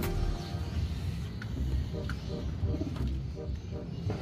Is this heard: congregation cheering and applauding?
no